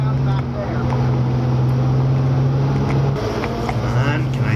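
The engine of a 70-year-old truck drones loud and steady from inside the cab, with a brief dip and change in pitch near the end as the gears shift at low RPM.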